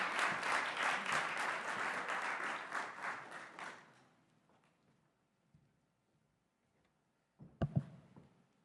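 Loud audience applause for Cobbler Shop at an awards ceremony, sustained clapping for about four seconds that fades out, followed by near silence and a brief sharp burst of sound near the end.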